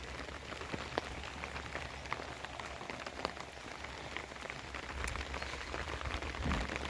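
Steady rain falls across a surface with scattered close drips and taps, a continuous soft hiss and no voices.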